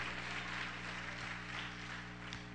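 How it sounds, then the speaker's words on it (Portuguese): A church congregation claps hands together in steady, continuous applause that fills the room at a moderate distance, with no voices standing out. "bata palmas para o Senhor Jesus"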